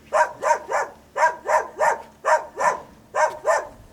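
A dog barks loudly and close inside an old castle, about ten sharp barks in quick rhythmic groups of two and three.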